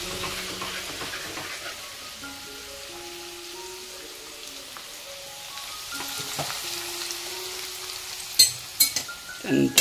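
Crab curry masala sizzles softly in a pan as it is stirred and fried. A quiet, even hiss runs throughout, with a few louder scraping clatters near the end.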